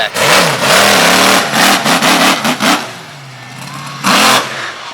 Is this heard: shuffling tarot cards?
no